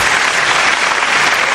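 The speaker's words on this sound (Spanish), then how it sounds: "Aplausos." Studio audience applauding steadily for the arrival of an actress on a television interview show, a dense, continuous burst of clapping with no talk over it.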